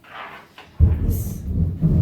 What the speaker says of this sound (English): Whoa, that was thunder.